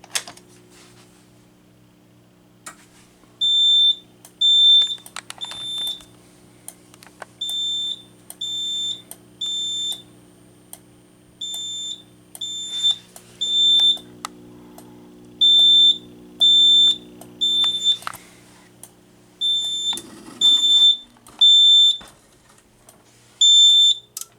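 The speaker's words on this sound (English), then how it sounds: "So let's activate the alarm." An electronic alarm beeps in repeated triple pulses, loud and shrill, with a low steady hum underneath throughout.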